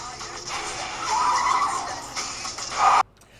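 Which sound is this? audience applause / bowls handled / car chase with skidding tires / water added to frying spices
car chase with skidding tires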